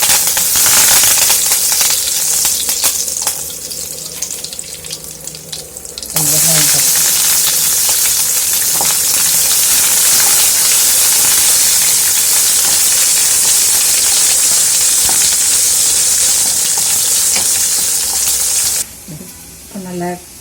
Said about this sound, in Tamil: இப்போ கடுகு வேடிச்சுட்டு நம்ம கருவேப்பிலை போட்டுக்கணும்.